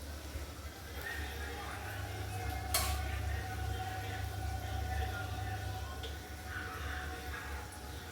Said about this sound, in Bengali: জিলিপিগুলো উল্টে নিয়েছি, অপর প্রান্ত লাল লাল করে সুন্দরভাবে ভাজতে হবে।